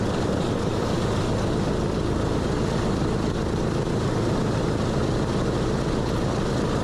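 Piston engines of the B-29 bomber "Doc" drone steadily in flight, a dense, unbroken roar heard from inside the aircraft at moderate level with no speech.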